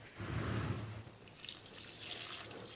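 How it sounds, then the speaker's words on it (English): Hot lye solution being poured carefully into hard oils while making soap, a steady liquid pouring and trickling close by with no talk. "My lye mixture is starting to clear from the cloudiness, which means it's time to add it into our hard oils."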